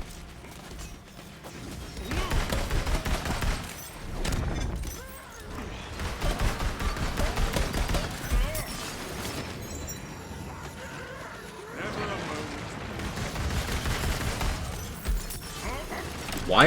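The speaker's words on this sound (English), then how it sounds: "This gun is sick." Rapid video game gunfire in bursts, loud and close, with crashing impacts and mechanical clatter, coming in several waves with short lulls between them.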